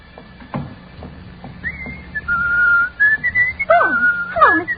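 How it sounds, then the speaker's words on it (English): Loud, bright whistling in a hallway: a sustained melodic whistle with sliding and warbling notes, rising and falling in quick phrases, close and clear over faint background noise with no talking. "Do you think we should whistle so loudly"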